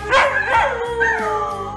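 A rescued dog barks and howls loudly and close by, with drawn-out wavering howls and short yips, alone with no talk.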